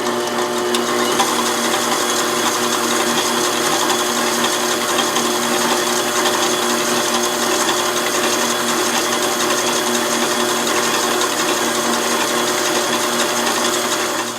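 An electric mixer beats batter for popovers at its slowest speed, giving a loud, close, continuous mechanical whir that holds evenly throughout.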